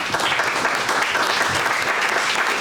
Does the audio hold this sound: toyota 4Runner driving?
no